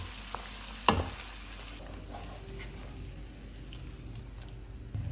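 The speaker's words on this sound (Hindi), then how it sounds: "इनको मिक्स करेंगे।" Chicken with lemon juice and spices being stirred in a pan over low heat: a soft, steady sizzle with one sharp scrape or clink near the start and a light scrape at the end, no voices.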